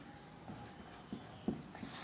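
Pen or chalk strokes mark out a chemical formula for a lecture on carbon chains, soft scratchy taps and short scrapes coming at uneven intervals, quiet and close in an otherwise hushed room.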